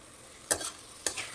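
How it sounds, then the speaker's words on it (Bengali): Tomatoes cooked with salt, turmeric and spices fry quietly in a pan, interrupted by two short scraping stirs about half a second apart. "একটু ভাজা ভাজা করে নিব"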